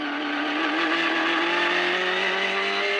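GT300 race cars at Fuji Speedway, with a Subaru BRZ approaching, produce a sustained loud engine roar whose pitch climbs steadily as the car nears, dense and continuous without pause.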